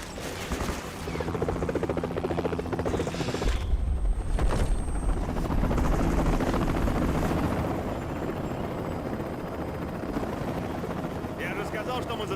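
A helicopter in the sniper shooter Sniper Ghost Warrior, a loud, sustained rotor and engine drone across the whole stretch, with bursts of gunfire and mechanical noise and a voice talking over it.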